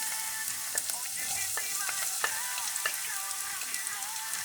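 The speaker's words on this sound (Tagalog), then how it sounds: "Ihuhulog na natin ang ating bawang." Garlic frying in olive oil for a white-sauce tuna pasta: a steady, close crackling sizzle peppered with sharp pops and spits, with no voices.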